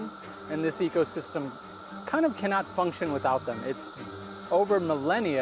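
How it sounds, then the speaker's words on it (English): Cicadas recently emerged in the American South and Midwest keep up a steady high, buzzing drone in the background, running continuously beneath someone speaking in the foreground. "That noise is from cicadas who have emerged this year in the American South and Midwest."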